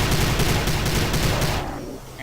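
Dense, rapid gunfire from a weapon in the video game Prey, loud and continuous for about a second and a half, then cutting off into quieter room tone.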